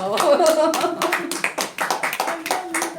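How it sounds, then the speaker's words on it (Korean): At a Buddhist arts gathering, a seated audience gives a round of hand claps for a publisher who printed poets' books. The claps come in uneven bursts mixed with voices and sung or spoken tones. "이럴 때 박수 한번 보내드려야죠"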